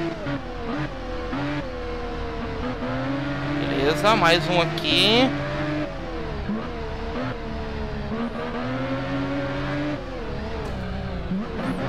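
Supersport motorcycle engine revs and races through corners in the video game RIDE, a rising and falling high-pitched whine with gear shifts and tire squeal, under someone talking.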